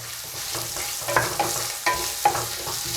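Finely chopped medium onion sautés in a pan with a steady sizzle, broken by a few sharp spatula scrapes and stirring clinks close by.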